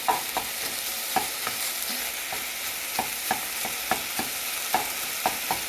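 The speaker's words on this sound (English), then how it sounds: "So I'm just browning the meat right now." Breakfast sausage meat browning in a pan, with a continuous sizzle and a regular series of spatula scrapes and taps as the meat is broken into small pieces, close and fairly loud, no voices.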